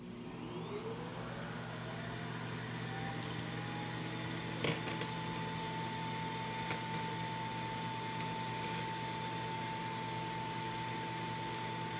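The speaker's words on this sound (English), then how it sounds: "there goes my robot vacuum. It's going to make a lot of noise here in a minute." A Shark self-emptying robot vacuum runs indoors as a steady, loud motor drone with a rising whine that settles into a constant tone, punctuated by a few brief clicks and knocks.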